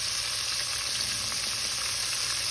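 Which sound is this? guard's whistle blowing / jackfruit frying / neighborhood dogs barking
jackfruit frying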